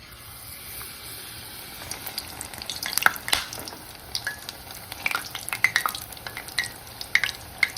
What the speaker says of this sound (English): And then I'm going to fry them up and eat them.